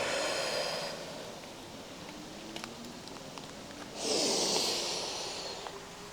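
A yoga instructor exhales audibly through the nose and mouth during a flowing hip and back stretch, a soft close breath followed by a louder, longer breathy exhale, with faint rustling.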